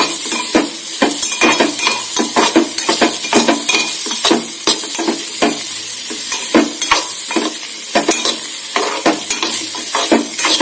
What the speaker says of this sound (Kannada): ಗೆಣಸು ಅರ್ಧಂಬರ್ಧ ಬೆಂದಿರುವಂತಹ ಗೆಣಸಿನ ಪೀಸು ಇದರಲ್ಲಿ ಚೆನ್ನಾಗಿ ಫ್ರೈ ಆಗಬೇಕು